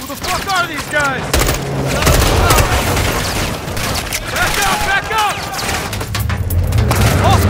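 Dense gunfire from a Call of Duty Modern Warfare 2 firefight: rapid overlapping shots and booming impacts run steadily and loudly throughout, with shouted voices mixed into the chaos.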